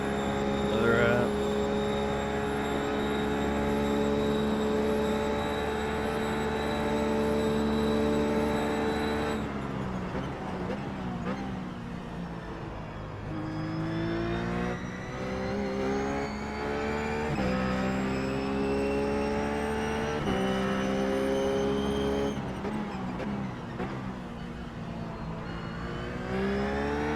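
A Ruf GT3 race car engine drones steadily while lapping Bathurst in iRacing, with sustained harmonic tones shifting through gear changes and revs rising and falling at regular intervals, loud and continuous throughout.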